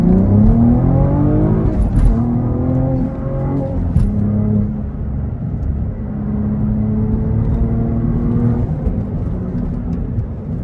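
A Cadillac ATS-V engine accelerates hard from inside the car, its loud, rising drone climbing through the revs, with brief shift breaks and a steady pull at the end.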